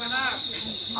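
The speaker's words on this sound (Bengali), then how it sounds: "ঝিঝি পোকা ডাকতেছে তার মাঝে বসে আমরা" Crickets chirp in a rural village setting, a steady high insect trill running continuously and fairly close, with faint background voices and activity beneath it.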